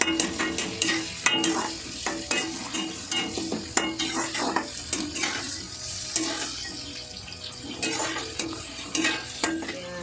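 Tomatoes fry over a high flame for rava kichadi, giving a steady close sizzle. Frequent clinks of a spoon against the pan cut through it, and no one speaks.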